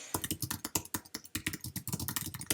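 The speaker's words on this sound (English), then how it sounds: "So first I'm going to type in" Fast, close typing on a computer keyboard: a steady run of crisp key clicks with an uneven rhythm and no voices.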